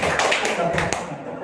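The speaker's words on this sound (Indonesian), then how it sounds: "Tepuk dulu tangan yang beri tangan" Hands clap in a Sunday church service, a short burst of several quick claps from a congregation at moderate distance, overlapped by a preacher's voice.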